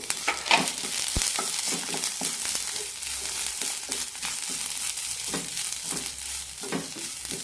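Ginger and two tablespoons of grated coconut roast in a pan for drumstick-leaf chammanthi, with a steady sizzle broken by frequent scraping, clicking strokes of the stirring spoon, close up and without talking.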